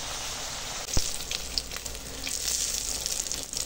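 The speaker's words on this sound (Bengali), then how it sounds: "এরকম করে ভেজে নেব।" Round-cut potato slices fry in a pan with a dense, even sizzle, broken by a sharp knock near the start and a few light stirring scrapes; close and steady, with no talking.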